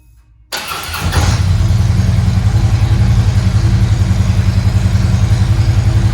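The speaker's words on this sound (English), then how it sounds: "Now let's fire it up." A Harley Tri Glide engine cranks and fires up after ThunderMax EFI programming, then settles into a loud, close, steady loping idle with a deep rhythmic pulse.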